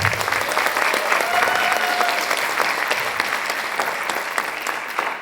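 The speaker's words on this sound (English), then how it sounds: "A huge round of applause to our eminent musicians." An audience at a dance arangetram claps steadily for the musicians, a dense, even wash of many hands that holds throughout and tapers slightly at the end.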